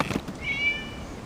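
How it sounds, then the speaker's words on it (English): A cat meows once in Genshin Impact, a clear rising-and-falling mew with no other voices. "It was just a cat."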